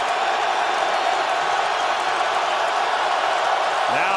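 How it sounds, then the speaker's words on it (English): A stadium crowd at a Falcons versus Lions NFL football game in Detroit roars in a steady, dense wash of noise that holds loud and unbroken throughout. "Now the crowd gets loud."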